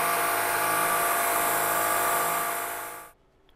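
An eighth-inch milling cutter running at 3,200 RPM cuts slots, giving a steady, loud, high-pitched whine with no talk, which holds for about three seconds and then fades out abruptly as the cut ends.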